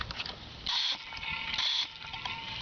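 Engine oil being pulled out of a VW Jetta through a suction pump hose: a steady rushing, gurgling hiss with two louder surges of flow, close by and with no talk.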